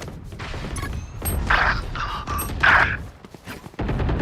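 Game explosions and gunfire in a tactical shooter round, with several mid-loud bursts and bangs over a busy background, close and without talking.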